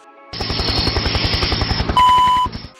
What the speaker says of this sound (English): You can hear a helicopter in the background,